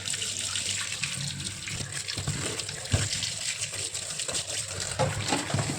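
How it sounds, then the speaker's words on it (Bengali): Tap water runs steadily over a peeled ash gourd being washed in a kitchen, a continuous close splashing rush with small irregular splatters throughout. "এবার এটা একটু ধুয়ে নেব।"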